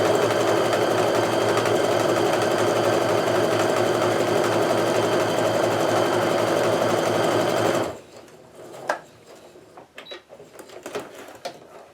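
A sewing machine chain pieces quilt diamonds in one long, steady, loud run of rapid stitching lasting nearly eight seconds, then cuts out, leaving soft clicks and fabric handling.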